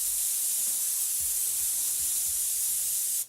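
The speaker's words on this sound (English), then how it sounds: "We'll spray that right in." An airbrush sprays dark paint in a continuous, loud, close airy hiss that holds steady for about three seconds before cutting off abruptly, with faint low thumps underneath.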